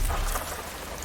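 Heavy rain in a film scene set in a parking area, a steady broadband hiss of downpour filling the short stretch, with no speech.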